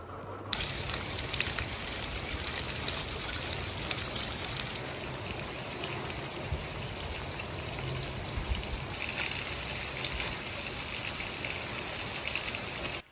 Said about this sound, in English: It is raining here at the storage.